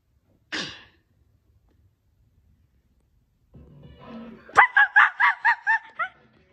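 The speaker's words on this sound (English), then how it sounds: "He's a dog, dude! There's a dog!" A single sharp yelp comes first, then after a pause a series of about six loud, evenly spaced barks or laugh-like bursts ring out close by.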